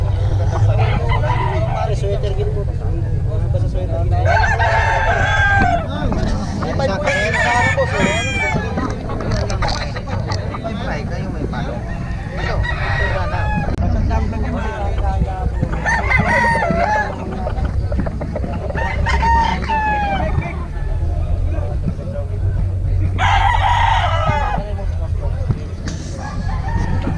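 Sweater Gilmore gamefowl roosters crow again and again over a continuous low rumble, with people talking throughout and several birds calling from moderate distance.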